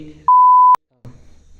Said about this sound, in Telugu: బీప్ చేయాలి గైస్ యాక్చువల్లీ ఆ పే ఆ పదం వాడకూడదు